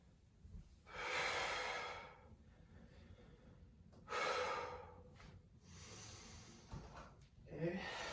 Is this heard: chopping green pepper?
no